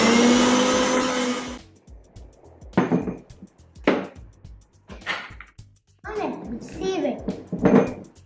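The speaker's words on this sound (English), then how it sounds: "Now let me grind them." Fruit peels ground in an electric grinder, a loud whirring burst at first, then several short grinding pulses separated by pauses.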